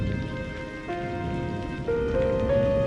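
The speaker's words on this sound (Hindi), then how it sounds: "बाबा, बारिश की पानी बूंदे बन के गिर रही है।" Steady rain falls in a cartoon about a crow's paper house during a flood, a continuous drizzling hiss under sustained musical tones, with no talking.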